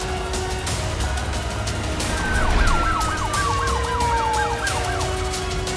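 A wailing ambulance siren sweeps up and down repeatedly over road noise, fairly prominent at first and then trailing off as it moves away.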